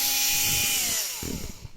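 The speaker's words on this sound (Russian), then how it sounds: "Берем дрель, то есть аккумуляторная дрель обычно." A cordless drill whirs loudly up close, its motor pitch sliding downward as it bores a hole, then winding down and stopping partway through, with no talking.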